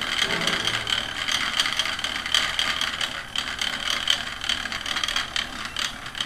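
A spinning wheel treadled at a fairly fast pace spins yarn, giving off a steady mechanical whirring with continuous fine rhythmic clicking, close and even throughout with no talking.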